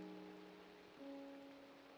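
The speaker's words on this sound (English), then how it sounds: "I reckon that's rain." Steady rain pattering in the video game Minecraft, a soft continuous hiss of falling drops heard quietly alone, with faint sustained tones running beneath.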